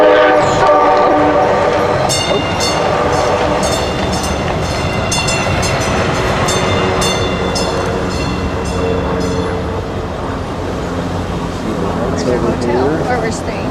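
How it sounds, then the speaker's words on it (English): Tram in Salt Lake City near Temple Square passing close by, a steady loud rumble with repeated high bell or horn-like tones over the first nine seconds, with people talking throughout. "there goes the tram."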